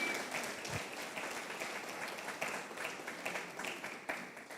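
A church congregation claps together in steady, dense applause that stays fairly even and continuous from a moderate distance, with no talking above it.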